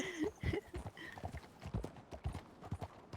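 Horse hooves clip-clop in a ranch roleplay video game, a quick, uneven run of soft, fairly close knocks with a few higher whinny-like tones at the start.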